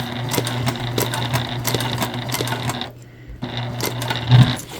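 A sewing machine top stitches a candy bag, running in rapid needle clatter with a steady motor hum, stopping briefly midway before starting again, heard up close.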